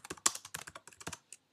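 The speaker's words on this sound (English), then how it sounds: "And start typing." Fast typing on a computer keyboard, a quick irregular run of about a dozen crisp key clicks in a close, quiet room, then a pause and one last tap.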